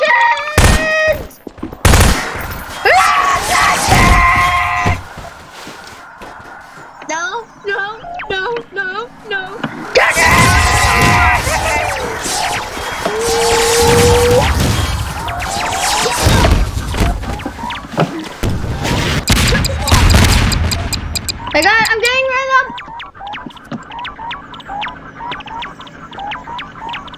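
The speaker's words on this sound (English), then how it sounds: "This is how much explosions!" Rapid bursts of gunfire and booming blasts from Garry's Mod, loud and chaotic, with beeping tones and a voice at times over the din.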